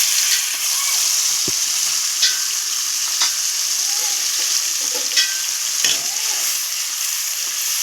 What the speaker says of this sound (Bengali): তেল গরম হয়ে গেছে এটা আমি ফোড়ন দিয়ে দিয়েছি বাটা মশলাটা ঢেলে দেবো